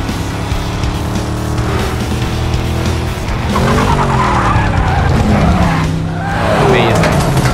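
A car drifting in a John Wick 4 movie scene, tires squealing and skidding in long sweeping bursts over a revving engine, loud and close, with people talking over it.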